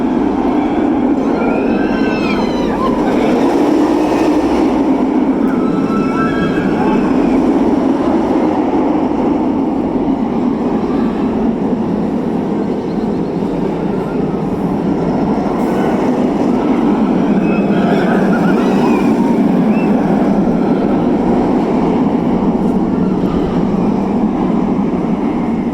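A B&M roller coaster at La Ronde amusement park in Montreal runs along its track with a continuous, loud rumbling roar that swells and fades slightly, and faint voices sit underneath.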